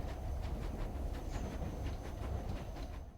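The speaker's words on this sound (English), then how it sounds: "Ah, a train." A train in the Nancy Drew video game rumbles past with a steady low roar and faint rhythmic clicking of wheels, loud and continuous before fading slightly at the end.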